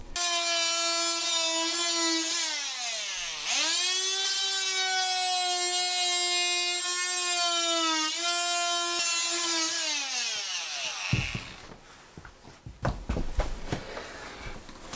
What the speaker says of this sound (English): I'm going to use my multi-tool here, and I'm just going to follow